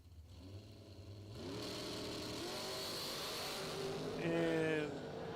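A junior dragster race car engine at a drag strip, idling and then revving up into a sustained, rising drone and holding high revs, heard close and loud with a faint voice in the background.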